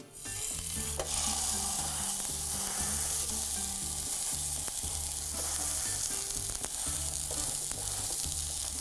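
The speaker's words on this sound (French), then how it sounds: "Donc, on fait cuire notre boulette" A chorizo burger patty fries in a pan, sizzling and crackling steadily and close up, with no voices over it.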